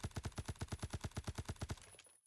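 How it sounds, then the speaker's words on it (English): A suppressed MC51 SD battle rifle in Phantom Forces fires a steady rapid burst of about twenty muffled, evenly spaced shots, close and alone, ending with a brief mechanical tail. "I like the model overall, but just listen to the beauty that is this gun."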